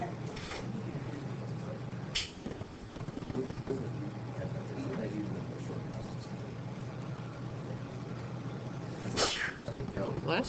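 A single sneeze bursts out briefly in a room, set among ongoing classroom chatter and background hum, with another short sharp burst later on.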